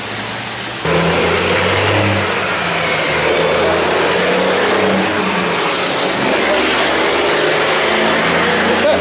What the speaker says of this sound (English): We got a thoroughbred traffic jam in the Locust Grove parking lot.